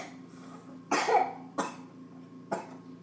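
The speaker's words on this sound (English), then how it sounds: "He just had a little cough." A baby gives three short coughs, close and clear, spaced about a second apart over a low steady room hum.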